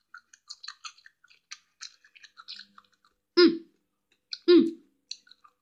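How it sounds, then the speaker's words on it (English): Loud, close crunching bites into a cucumber, two big crunches followed each time by softer wet chewing clicks, with quiet mouth sounds in between. "time to eat the cucumber"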